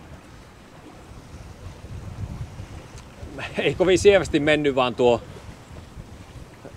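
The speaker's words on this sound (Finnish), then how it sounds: "se rupesi niin kovasti taas tuulemaan" Gusty wind roars over the microphone on a sailboat with a wash of water and waves, and someone speaks briefly midway through.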